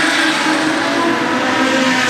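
Production sedan race cars at Moora Speedway roar past in a dense, loud blur of revving engines, steady and close throughout the short burst.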